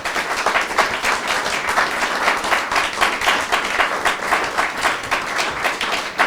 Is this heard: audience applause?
yes